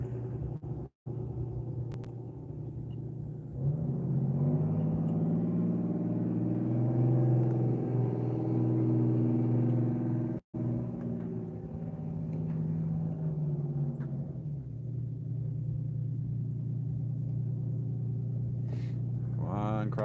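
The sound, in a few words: fire truck driving down a boat ramp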